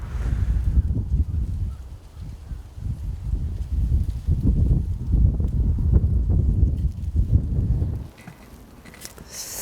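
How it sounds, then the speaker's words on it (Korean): Wind gusting across a valley reservoir fishing spot in May, a steady low roar and buffeting against the microphone that swells and eases, then drops off sharply near the end; no one speaks. "오늘 도 날씨가 바람이 왜 이렇게 불어"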